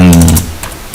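A single computer keyboard key is struck to enter a typed web address. One sharp, loud tap opens the stretch and fades within half a second, leaving quiet room noise and a faint click at the end.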